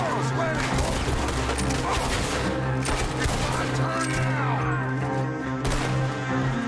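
Gunfire in a Red Dead Redemption 2 shootout: rapid, overlapping shots crack repeatedly amid loud game ambience and music, a busy fusillade that continues through the whole stretch.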